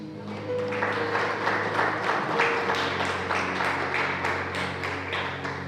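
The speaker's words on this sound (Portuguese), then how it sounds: "E você aplauda Jesus" Churchgoers applaud Jesus during a worship service, a moderate crowd clapping that swells and continues over a sustained musical drone, somewhat distant and blended.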